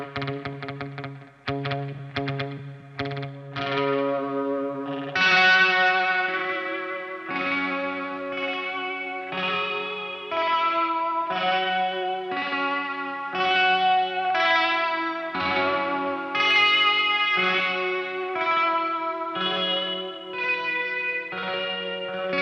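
A BOSS DD-200 delay pedal set to a very fast tape echo turns a guitar into glitchy, warbling, stuttering repeats. The sustained chords and notes carry dense, wobbling echoes with no talking.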